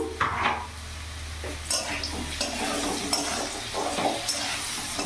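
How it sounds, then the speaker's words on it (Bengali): Turmeric, cumin powder and Kashmiri chili powder are stirred with cabbage in a hot pan: a steady sizzle broken by repeated scraping and clinks of a utensil against the metal. "ভালো করে নাড়াচাড়া করে নেব।"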